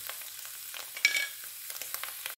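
Chicken, potato and zucchini cook together in a pan with a quiet sizzle, marked by soft scraping stirs and a slightly louder burst near the middle, with no talking.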